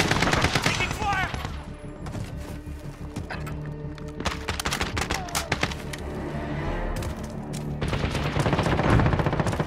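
Rapid gunfire in Call of Duty: Modern Warfare, loud bursts of automatic rifle shots and scattered single cracks in a busy multiplayer firefight, with voices calling out over the shooting.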